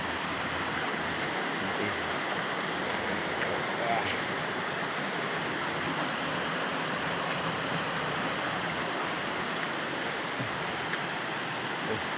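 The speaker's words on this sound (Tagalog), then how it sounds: "Buat ka kahoy sa Dilosong River." Broad, steady rushing of the Dilosong River flowing, a dense continuous wash of water close by, with a brief spoken word over it.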